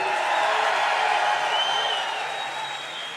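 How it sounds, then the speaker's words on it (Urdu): An audience breaks into sustained applause with scattered cheering throughout, a dense steady roar that fades slightly toward the end. "ذرا اور زور سے تالیاں بجائیں"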